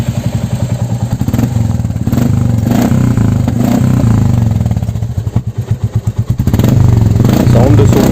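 A Royal Enfield Classic motorcycle fitted with a Motowing silencer exhaust idles with a loud, rapid thumping beat, then revs up in surges, very close. Someone talks over the engine.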